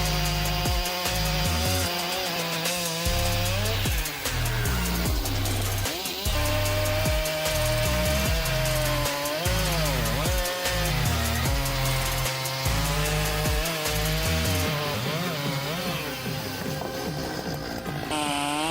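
A Stihl 046 chainsaw cuts through big wood with a loud, continuous high-revving snarl, its pitch rising and falling as the chain bites into the log, with no talking.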